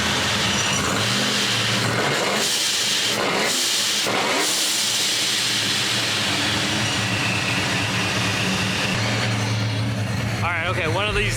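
An LS-swapped car with a chopped cam revs loudly and close at a Lunar New Year car meet, its lumpy idle rising and falling through several throttle blips, with voices talking over the engine noise.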